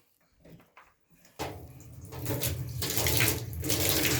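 Hot water running from a household tap fed by a gas boiler powered through an inverter, starting with a few faint knocks before the stream gushes in and runs loud and steady.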